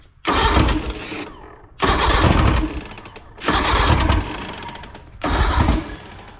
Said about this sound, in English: You put a little fuel in there, she fires off.